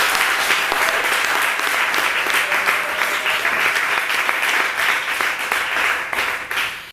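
A church congregation applauds in sustained, dense clapping that stays loud and even throughout, with some voices faintly mixed in.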